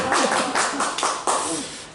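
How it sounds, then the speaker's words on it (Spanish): A small class applauding a student in a university lecture, a short burst of scattered, close hand claps that rises quickly and fades within a couple of seconds. "Un aplauso para ella"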